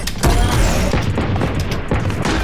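A grenade blows up in Valorant with a loud, booming blast that fills the whole moment, followed by rumbling, crackling debris and several dull thuds.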